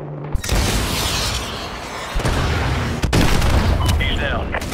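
Dense, sustained gunfire and booming impacts from the Call of Duty Modern Warfare 2 Remastered campaign, loud and continuous with bursts of shooting and radio chatter voices mixed underneath.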